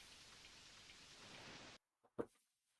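Steady rain falling in the SNES fishing game TNN Bass Tournament of Champions, a faint even wash of raindrops that cuts off abruptly partway through, followed by a couple of soft blips.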